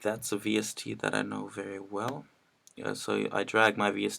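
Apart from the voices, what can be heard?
No distinct noise like a dog, phone or traffic.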